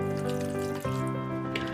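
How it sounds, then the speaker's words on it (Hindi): Water poured into a pot of cooked vegetables for a vegetable soup, a steady close liquid splash and trickle running without a break, with a slight change in tone partway through. "अब मैं इसमें ऐड करूंगी पानी"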